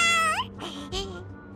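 A small cat-like creature in the video game Honkai: Star Rail gives a short, bright, rising purr-call that sounds more like a meow, followed by a couple of softer chirps, clear and close.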